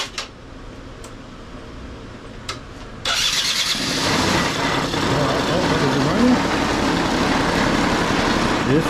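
A 2008 Yamaha Zuma 50 two-stroke scooter cranks with a few short bursts, then catches at about three seconds and settles into a loud, steady, raspy idle close by.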